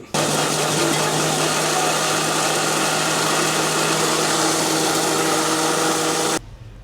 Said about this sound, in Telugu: దీన్ని మిక్సీ మీద బ్రర్ తిప్పుకుని